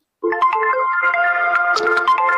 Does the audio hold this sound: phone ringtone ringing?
yes